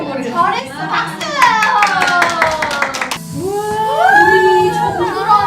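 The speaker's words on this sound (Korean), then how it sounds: "박수" Young children clap their hands together in a quick run of about a dozen crisp claps close by while an adult sings or talks in a lilting voice, then more talk follows.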